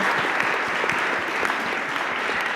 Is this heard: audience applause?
yes